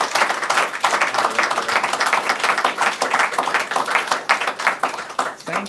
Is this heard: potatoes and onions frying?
no